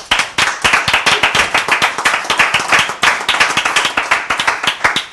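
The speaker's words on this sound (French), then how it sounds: "on l'applaudit quand même" A studio audience claps and applauds for a guest arriving on a television show set, dense steady clapping filling the whole stretch, loud and close with no talk over it.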